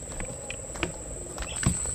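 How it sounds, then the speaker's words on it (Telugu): Light rain patters steadily through a mangrove forest at Koringa Wildlife Sanctuary in Andhra Pradesh, a soft continuous drizzle heard near a boardwalk bridge, with a few brief sharper drops and faint insect-like chirps. "అసలే చిన్న చిన్న చినుకులు పడుతున్నాయేమో"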